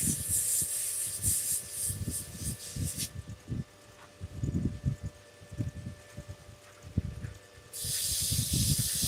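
Wood spinning on a lathe is sanded with 300-grit sanding sponges, giving a steady hissing rub that comes in and out in strokes, with bursts of higher hiss at the start and end.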